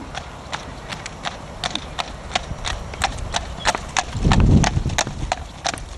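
Hooves clip-clop in a steady, even rhythm on a hard surface as a horse is led and turned by a handler during a lameness check, crisp and close, with a brief low rumble partway through.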